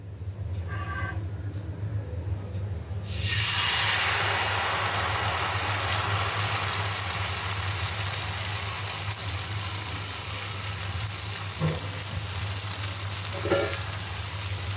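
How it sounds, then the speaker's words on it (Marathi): Ragi ghavne batter poured onto a hot iron griddle bursts into a loud, steady sizzle after a quieter start, hissing continuously up close with a couple of faint clinks near the end. "आपलं बिडं तापलेलं आहे. आपण त्यावर घावणे टाकूया."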